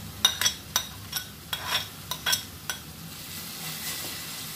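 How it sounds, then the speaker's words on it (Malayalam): A spoon scrapes and taps in a pan about eight times as a coarsely ground masala paste is stirred into sautéed onions for Kerala-style roasted egg masala, over a soft, steady sizzle. "ആ അരപ്പ് നമ്മൾ ഇതിലേക്ക് ചേർക്കുകയാണ്."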